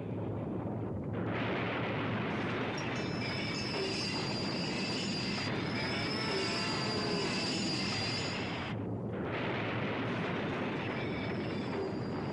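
A train rolls past with steady rumbling and high metallic wheel squeals, continuous and fairly loud throughout.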